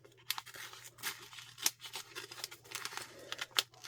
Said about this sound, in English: Let's use the scissors to open this up